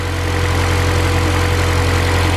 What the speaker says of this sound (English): Idling a little high while it's warming up still.